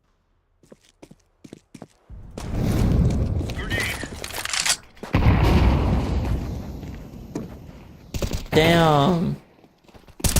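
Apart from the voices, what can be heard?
gunfire in a video game shooter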